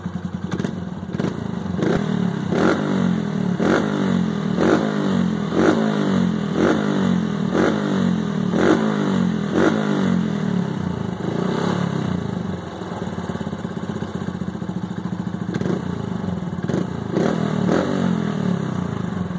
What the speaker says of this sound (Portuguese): Fechar aqui para vocês ouvirem como é que é o barulho com o banco fechado.